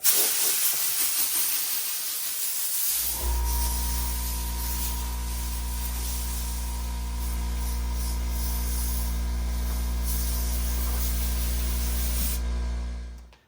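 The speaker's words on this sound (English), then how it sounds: "I just connect my little gun here to my hose reel, turn on my air compressor" A loud, steady blast of compressed air from an air compressor and blow gun hisses continuously for about ten seconds, blowing dust off a car cover outdoors, preceded by a low rumble and cutting off sharply.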